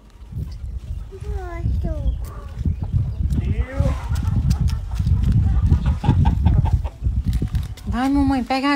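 A chicken clucks and squawks repeatedly on a country property, rising in bursts and ending in a loud run of cackles, while people talk and laugh loudly over it close by.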